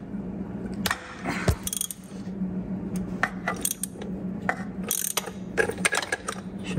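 Ratchet wrench working on the oil pressure sender of a Mazda Miata 1.8 engine, irregular clicking ratchet strokes with metallic clanks and tool handling, close up.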